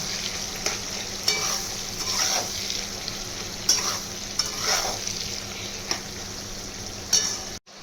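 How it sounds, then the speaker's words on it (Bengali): Onion and capsicum fry in a pan with salt, making a low, steady sizzle broken by several sharp scraping stirs of a spatula at irregular intervals, with no talking. "নুন দিয়ে আর কিছুক্ষণ ভাজবো"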